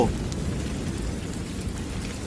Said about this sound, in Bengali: ঝড় বৃষ্টি শুরু হওয়াতেই